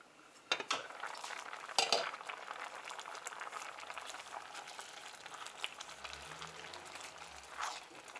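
Millet porridge bubbles quietly in a pot while a spoon clinks and scrapes against the metal now and then, with faint low murmurs in the background.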